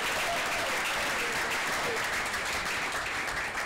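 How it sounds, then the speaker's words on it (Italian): Applause at a football club press conference welcoming new signing Giuseppe Martinez, steady and dense for the whole stretch, a roomful of clapping hands at even loudness with no break. "Un applauso per Giuseppe Martinez."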